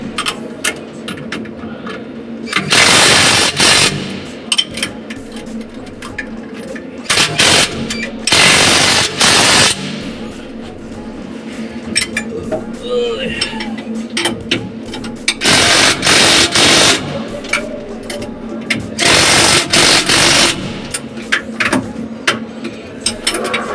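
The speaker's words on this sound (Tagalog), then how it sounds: "Ginamitan ko na ng impact drill" An impact drill runs in loud, rattling bursts during bus bar installation: four or five runs of a few seconds each, separated by quieter gaps of background noise.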